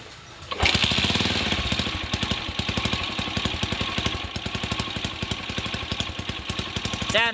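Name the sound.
motorcycle engine starting and idling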